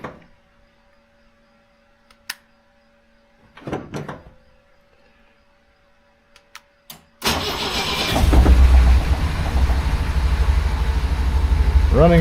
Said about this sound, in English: And the motor sounds all right now, all 4 cylinders going.